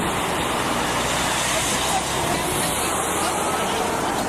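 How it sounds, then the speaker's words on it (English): Dense roadside traffic roars steadily, cars rushing past close by in a continuous wash of tire and engine noise. "We don't want you doing fields on the side of the road. There's too many cars."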